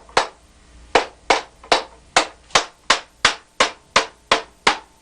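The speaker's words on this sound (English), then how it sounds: "hammer it with my wooden mallet" A wooden mallet strikes a leather Viking boot piece on the last, twelve sharp, evenly spaced knocks at a steady rhythm, close and loud, each decaying quickly.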